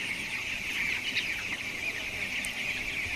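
Chickens on a small backyard home farm cluck and call steadily over a constant bright background hum, with no one speaking.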